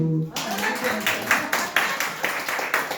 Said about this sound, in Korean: 사모님 박수